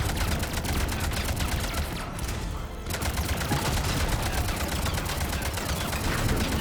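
Sustained automatic gunfire in the video game Mass Effect 3, played on Insanity difficulty at Grissom Academy, with dense rapid bursts filling the scene and a brief lull partway through.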